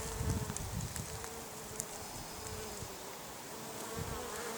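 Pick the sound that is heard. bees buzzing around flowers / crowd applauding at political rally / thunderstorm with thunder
bees buzzing around flowers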